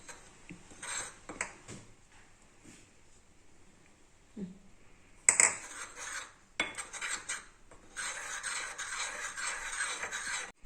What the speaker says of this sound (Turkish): koyduğumuz undan sonra karıştırdık